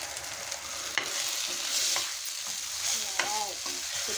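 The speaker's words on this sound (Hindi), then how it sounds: "हुण आप साग पावांगे।" Saag greens fry and are stirred in a pan, giving a steady sizzle with scraping spoon strokes and occasional clinks against the pan, close and continuous with no talk.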